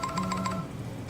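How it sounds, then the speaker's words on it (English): A mobile phone ringtone plays a quick repeating electronic melody of bright pulsed tones, heard briefly at moderate volume over a low background. "it's the moment Kinji's phone goes off."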